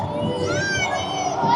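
Football fans at a Spartak Moscow match cheer and shout in a stadium tunnel, a dense crowd roar with high excited voices close by.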